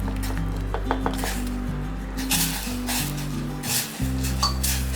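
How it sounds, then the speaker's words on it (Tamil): Rice flour is stirred into boiling water in a pot for Kerala rice pathiri, with soft repeated scraping and swishing strokes over a steady musical backing. "நம்ம இந்த அரிசி மாவு கொஞ்சம் கொஞ்சமாக இதில் போட்டு மிக்ஸ் பண்ணலாம்"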